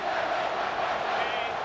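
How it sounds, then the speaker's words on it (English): A dense stadium crowd roars steadily in a college football video game, Michigan against UCLA at the Rose Bowl, a continuous wall of cheering with no breaks. "this crowd is making it miserable on this offense"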